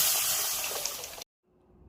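Lentil (dal) cooking water poured into a cooking pan, a brief close splashing hiss that cuts off abruptly, then near silence.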